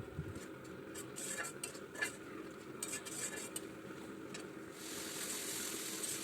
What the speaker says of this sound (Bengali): আমি মশলাটাকে ভালোভাবে কষিয়ে নেব